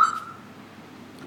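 A Viper 5901 car alarm on a Jeep Wrangler gives a short unlock chirp, heard nearby in an enclosed space, then fades into quiet background noise.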